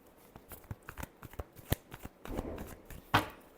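Tarot cards being shuffled by hand in a series of quick papery riffles and taps, close and fairly quiet, with no voice over it.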